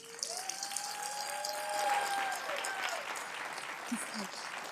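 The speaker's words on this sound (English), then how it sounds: "So give yourselves a big round of applause." Community members applaud at a city council meeting, a soft, steady round of clapping heard from a distance with a faint whistle-like tone sweeping through.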